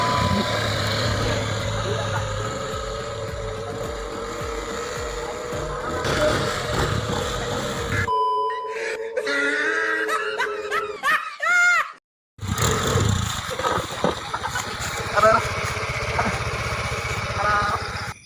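A motorcycle engine idling and running steadily at close range, with a short break partway through, and people talking over the motor in Sundanese and Indonesian.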